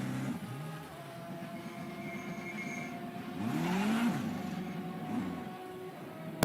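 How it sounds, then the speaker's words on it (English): A pace car drives out at the Glasbachrennen round of the European Hill Climb Championship: a faint, distant engine swells and rises in pitch midway, then fades under steady outdoor background noise. "as you can hear, with the pace car, so it should be going now"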